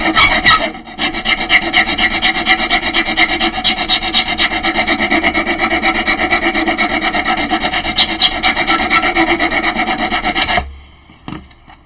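A hand file rasps steadily against a workpiece on a workbench: loud, continuous, rhythmic scraping strokes for about ten seconds, then a stop, with no voices.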